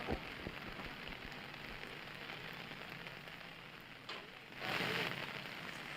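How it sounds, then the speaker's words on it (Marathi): Monsoon rain pours down steadily in Shahapur, Maharashtra, a soft, even hiss of drops on surfaces that swells briefly toward the end. "शहापूरमध्ये विजांच्या कडकडाटासह मान्सूनचं दमदार आगमन झालंय"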